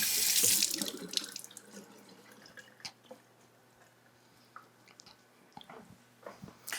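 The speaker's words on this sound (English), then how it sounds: "Let's get it washed up and chopped up." A kitchen tap runs loudly at first as fresh rhubarb stalks are rinsed in the sink, then the flow stops, leaving scattered drips, wet handling noises and light clatter close by.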